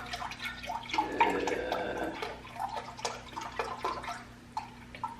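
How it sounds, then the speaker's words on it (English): Chicken stock poured into a crock pot, a light splashing trickle with scattered drips over a low steady hum. "I'm going to pour that into my crock pot."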